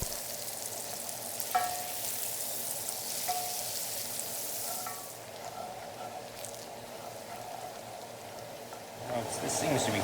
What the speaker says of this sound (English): we add half a stick of butter into the pan and stir everything until the butter